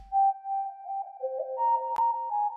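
A thin synth lead plays a short melodic line, clean sustained tones with a brief click partway through, fairly quiet.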